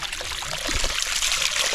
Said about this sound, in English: first we're going to rinse the bottle.